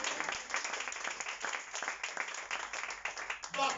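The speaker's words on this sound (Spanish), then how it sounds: "Denle un aplauso al Señor" A church congregation claps in praise, a short burst of moderately loud, fairly even applause lasting a few seconds, with a voice coming in over it near the end.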